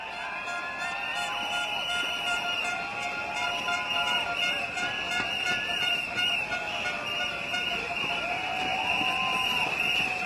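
Crowd cheering and applauding at a political rally for a group representation constituency, a sustained dense roar of clapping and cheers with horn-like tones running through it.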